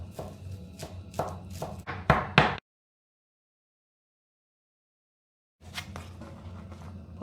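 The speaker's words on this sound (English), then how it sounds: "roughly chop the mint" Knife roughly chopping fresh mint leaves on a board for a prawn and pomelo salad, a quick series of close, sharp taps that speed up, break off into silence, then resume.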